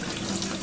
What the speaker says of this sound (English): Straighten it up and run it under cold water,